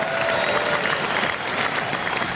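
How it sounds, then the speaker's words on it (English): A studio audience applauds loudly and steadily, a dense wash of clapping that fills the whole stretch with no voices over it. "We have the super applause today because we are joined by a couple of superstars."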